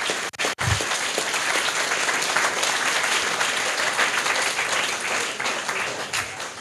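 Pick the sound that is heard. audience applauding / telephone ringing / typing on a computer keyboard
audience applauding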